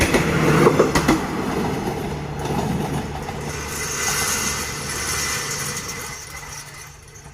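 Railway train running along the track in Thailand, a QSY-class locomotive hauling cars, with steady rolling rail noise and clickety-clack wheel beats that are loudest near the start and ease off toward the end.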